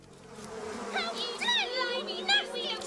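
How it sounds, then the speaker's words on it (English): Bumblebees buzzing in an animated Beatrix Potter tale, heard as a close, steady insect drone with bright, wavering chirp-like tones that rise and fall several times over a soft background hum. "I do not like bumblebees. They are all over bristles."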